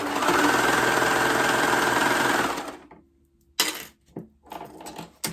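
A sewing machine runs at a fast, even hum while stitching a Rockford Raglan top, then stops, leaving a few clicks and light handling noises.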